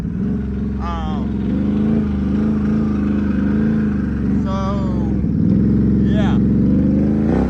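Can-Am Renegade ATV engine droning steadily and loud up close with rising revs, someone talking over it throughout.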